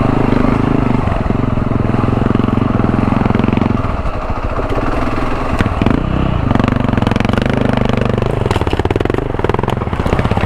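A Honda XR650L dual-sport motorcycle rides over a rocky road with a steady, loud, close single-cylinder engine drone. The engine pitch dips and rises with throttle changes over rough ground.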